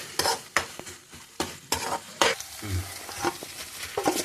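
Chicken pieces tipped into sizzling tomato masala and stirred in a pan for a simple chicken curry, with scraping spoon strokes and thumps over a steady frying hiss, close up and without speech.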